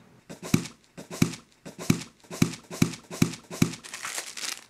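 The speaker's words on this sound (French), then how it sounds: "Un joli tube, on va ouvrir ça ensemble." Cylindrical cardboard packaging tube for a Creative Sound Blaster Free speaker being opened, giving a run of about seven evenly spaced crinkling, scraping pulls, each sharp at onset, close and fairly loud, ending in a longer rustle with no talking.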